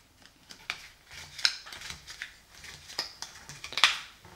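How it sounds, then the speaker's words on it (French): Playing cards from a Marvel United board game folded back and slid across a table, giving light, sparse taps and papery scuffs with a few sharp clicks, close and quiet. "je vais gentiment replier les cartes comme ça"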